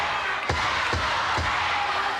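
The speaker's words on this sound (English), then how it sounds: "Listen to this capacity crowd." A capacity crowd roars throughout a professional wrestling match, a dense steady wall of arena noise with a few brief thumps rising out of it.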